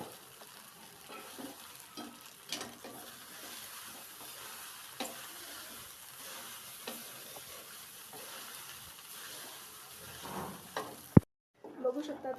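Leftover rice stir-fried in a spiced tempering, a quiet continuous sizzle with scattered scraping stirs, faint and close, ending in a brief sharp knock then near silence.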